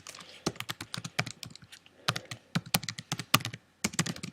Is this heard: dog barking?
no